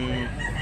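Gamecock rooster crowing among fighting cocks offered for sale, a short, loud nearby crow with strained harmonic tone lasting under a second, with faint background noise.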